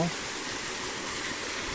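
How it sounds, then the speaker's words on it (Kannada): A small stream pours down a hillside in a little cascade. It gives a steady, close, broadband rush of water with no break for the whole moment. "ನೀರು ಹರ್ಕೊಂಡು ಬರ್ತಾ ಇದೆ, ಒಂದು ಸಣ್ಣ ಜರಿ ಥರ ಆಗಿದೆ"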